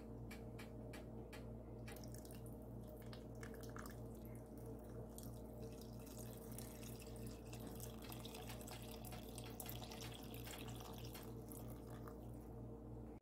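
Tamarind water, from a lemon-sized lump of tamarind soaked ten minutes, trickles and splashes into a pot of mixed vegetable sambar with a steady liquid rush and scattered drips under a constant low hum.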